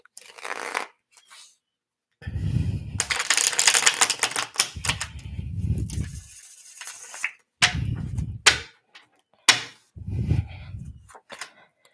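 A deck of tarot cards is shuffled by hand in several close bursts, crisp riffling and snapping clatters with short pauses between them, loud and alone.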